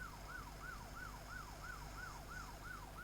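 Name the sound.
police car siren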